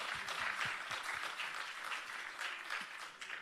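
A festival audience applauds Vlad during a comedy talk, steady moderate clapping from a room full of people sustained throughout with no voices over it.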